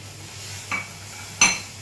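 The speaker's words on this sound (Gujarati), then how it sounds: "અને મિશ્રણને વ્યવસ્થિત રીતે મિક્સ કરી લઈશું" Two brief scraping clinks of a utensil against a pot come as a nachni and carrot kheer mixture is stirred, the second louder than the first, over quiet background hum.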